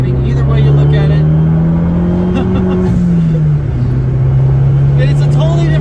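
Corvette Z06 engine and exhaust droning steadily from inside the cabin with the pitch rising and falling as the revs change, loud and continuous the whole way through.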